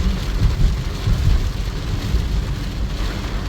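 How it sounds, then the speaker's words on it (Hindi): Heavy rain pours steadily with low rumbling thunder underneath, a dense continuous wash of noise without speech, outdoors in Saudi Arabia. "माशाल्लाह बड़ी ही शानदार बारिश है जी"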